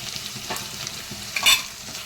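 Onions and a big tomato sauté in a pan with a soft steady sizzle, and a spoon stirs in a couple of scraping swishes.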